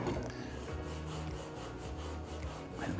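Rubbing alcohol being rubbed back and forth into dried glue on a wood panel: a close, continuous scrubbing and rasping sound with a soft swishing rhythm, heard alone.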